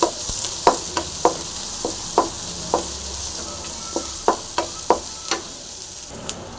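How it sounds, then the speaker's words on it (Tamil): Onion, green chili and crushed garlic fry in a pan with a soft, continuous sizzle. A dozen or so sharp clicks of a spoon against the pan are scattered through it, fairly close and moderate in level, with no voices. "வெங்காயம் நல்லா ஃப்ரை பண்ணி இது கூட பச்சை மிளகா இடித்த பூண்டு போட்டாச்சு"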